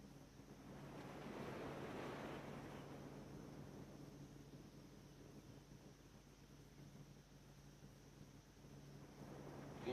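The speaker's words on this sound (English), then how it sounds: "Try and tune into the waves." Ocean waves washing onto a beach, a soft steady surf with one swell building and receding, with light wind noise and no talking.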